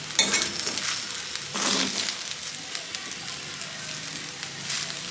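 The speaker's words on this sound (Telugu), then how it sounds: "ఒక 2 నిమిషాల పాటు అన్నం కూడా ఇలా ఫ్రై అయిన తర్వాత" Ajwain rice sizzling and frying in a pan on the stove, a steady close crackle with brief louder bursts as the rice is stirred, no voices.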